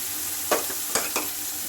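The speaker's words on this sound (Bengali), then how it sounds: "এবার মশলাটা একটু ভালো করে ভাজা ভাজা করবো।" Spice masala of cumin, chilli, turmeric and Kashmiri chilli powders fries with garlic, onion and ginger in a pan. A close, steady sizzle is broken by three quick scraping stirs.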